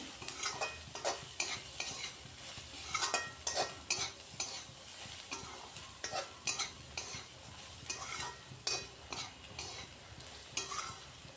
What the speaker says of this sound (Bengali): গুঁড়া মশলাগুলোও একসাথে পেঁয়াজের সাথে দিয়ে ভাজা ভাজা করে নিচ্ছি